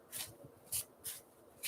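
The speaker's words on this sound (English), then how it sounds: "let's just give these cards a little bit of a shuffle" A deck of playing cards being shuffled in a few quick, faint riffling bursts close by, with soft handling sounds between them and no talking.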